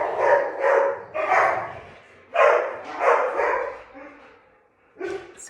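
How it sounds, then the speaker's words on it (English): Several pet dogs bark excitedly at a visitor at the door, bursts of loud close barking in quick clusters with short pauses between. "Sorry, my dogs are going to go crazy."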